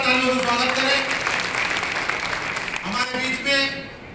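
Applause welcomes guests at a BJP party workers' conference in Biaora; loud, continuous clapping from a crowd goes on under an announcer's amplified voice.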